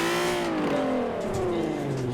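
A Volkswagen MK4 Golf R32 with a naturally aspirated engine revs loudly in Forza Horizon 4, its tone climbing and holding in a steady, continuous drone from start to finish.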